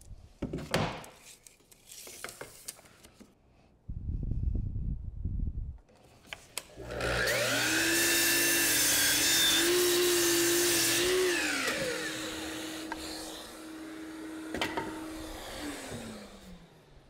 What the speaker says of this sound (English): Chop saw.